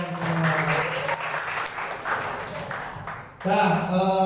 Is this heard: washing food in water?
no